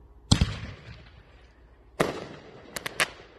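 Fireworks go off outdoors at night in a backyard display: a sharp double burst early on, then a louder crack followed by several quick pops and crackles about a second later, each trailing into fading hiss.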